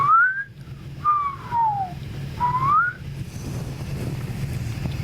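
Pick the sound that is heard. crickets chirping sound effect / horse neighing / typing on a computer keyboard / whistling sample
whistling sample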